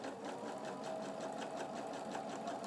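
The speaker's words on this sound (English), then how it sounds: "you move them over here to your sewing machine, and you're going to sew a 1/4 inch seam on either side of" Sewing machine stitching a quarter-inch seam beside a drawn line on fabric pieces for a chevron quilt block, a steady close, continuous whirring hum with rapid needle rhythm throughout.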